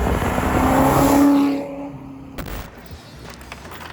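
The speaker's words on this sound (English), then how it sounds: "Right now, you got the sound of that 347." A Ford Mustang Foxbody with a 347 V8 engine runs loud at first, then fades to a lower, quieter rumble. A short spoken word comes near the end.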